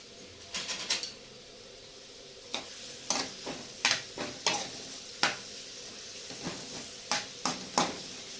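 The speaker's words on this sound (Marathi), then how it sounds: "चॉप केलेला आहे तो आपण याच्यामध्ये टाकूया आता आपण चांगलं परतून घेऊया" Chopped onion and other ingredients being sautéed in a pan for Maharashtrian egg curry, with a spatula scraping and stirring in a series of clear strokes over a faint sizzle, no talk.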